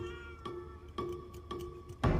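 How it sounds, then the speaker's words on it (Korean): A cat meows in short repeated calls, about four evenly spaced cries over a steady low background, with a louder rustling burst at the end. "고양이는 그 잠깐 무시하시고."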